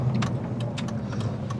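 A BMW E46 330ci with an SMG gearbox accelerates. The engine note is a mid-pitched drone heard from inside the car, broken by several short clicks and knocks. No one speaks.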